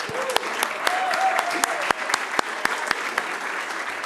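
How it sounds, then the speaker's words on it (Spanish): Crowd applause at a Diario Financiero anniversary event: sustained clapping with distinct sharp individual claps standing out, with a faint tonal sound in the background, for about four seconds. "Ahí está, un aplauso para ella."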